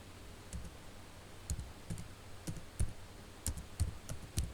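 Fast computer keyboard keystrokes and mouse clicks come in short, irregular bursts, close and crisp against a quiet room.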